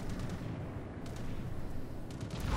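Ship cannons firing in the naval combat game World of Warships, a continuous rumbling wash of heavy gunfire and distant blasts with sharper cracks near the start and end, at moderate level without speech.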